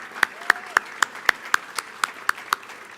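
Scattered, evenly spaced claps from a small number of people at a school athletics hall of fame gala dinner, applauding the board of education. The claps ring out clearly against a quiet room.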